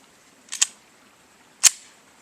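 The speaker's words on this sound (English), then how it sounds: "Me shooting the G3 by Taurus." A Taurus G3 pistol fires outdoors at targets: two quick sharp cracks close together, then a single crack about a second later, each short and snappy against a quiet background.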